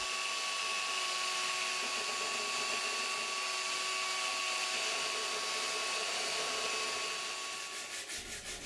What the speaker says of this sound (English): I belt sand as far as possible.